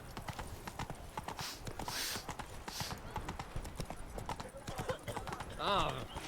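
Roach the horse walking through a town in The Witcher 3: Blood and Wine, a steady clip-clop of hooves on stone, near and continuous, with a voice talking over it and a short whinny near the end.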